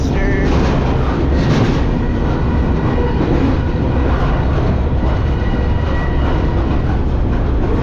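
A long train rolls past close by, a loud, steady rumble of rail cars and wheels that holds for the whole stretch with faint clatter on top and no letup.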